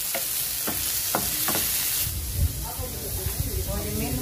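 Onion and tomato hit a hot pan in a pork and liver dish, stirred with a few sharp scrapes before a steady close sizzle and hiss takes over; a voice speaks briefly.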